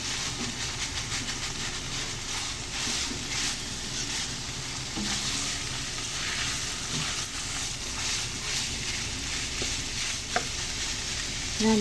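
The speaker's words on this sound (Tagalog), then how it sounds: "Sitayin natin yung giniling para masarap." Ground meat sautés in margarine in a pan, giving a steady, moderately loud sizzle and crackle that runs the whole time, with faint stirring scrapes and small clinks throughout.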